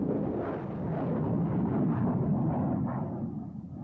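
A sustained, loud rushing roar from a Multiple Launch Rocket System (MLRS) firing rockets, a dense broadband blast that swells and holds, then eases slightly at the end.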